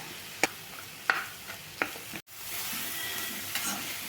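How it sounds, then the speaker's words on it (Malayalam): Egg and fig thoran stirred in a pan, a few sharp spoon scrapes and taps over a soft, steady sizzle, close and alone without voices. "അത് നന്നായി ഇളക്കുക"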